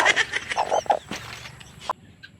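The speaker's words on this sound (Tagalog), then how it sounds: "Bakit maingay yung manok doon, ha?" Several chickens squawk and cluck in quick bursts, fairly close, over a low rumbling background, then the noise cuts off abruptly.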